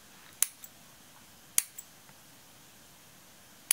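Scissors snip through craft material for a vintage chessboard shadowbox, three sharp close cuts spaced about a second apart, each followed by a softer click, in an otherwise quiet room.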